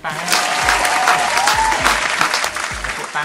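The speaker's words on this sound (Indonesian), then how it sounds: "Tepuk tangan dong, tepuk tangan." A group of participants at a drawing class applauds, with loud, continuous clapping throughout, while a voice talks and cheers over it.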